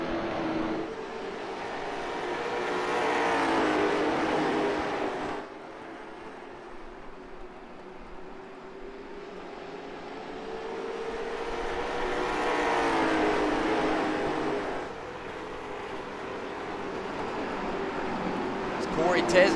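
Late model stock cars race around North Wilkesboro Speedway, engines swelling loud as the pack passes near, fading, then roaring by again in a steady cycle of laps.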